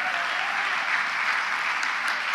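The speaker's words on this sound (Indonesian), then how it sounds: "Beri tepuk tangan bagi Tuhan." A church congregation claps in praise, a brief burst of full, even applause from many hands that fills the room evenly from start to finish.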